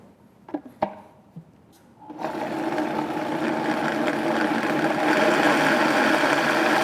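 A countertop blender roars to life after a few clunks of ingredients going in, then whirs steadily and loudly while blending a creamy citrus white bean dressing for a kale salad.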